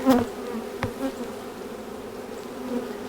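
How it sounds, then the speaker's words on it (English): Honey bees hum at an open hive during a swarm transfer, a dense close drone of many insects with a couple of brief louder buzzes passing near. "So these bees are doing good. I haven't spotted the queen, but there are a lot of bees."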